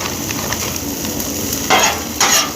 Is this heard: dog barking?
no